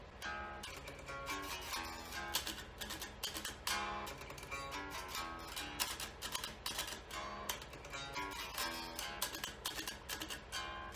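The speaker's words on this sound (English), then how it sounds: "Up to speed, the riff sounds like this." Faint electric guitar riff at full tempo, tight muted chugging punctuated by quick note changes in a driving, repetitive pattern.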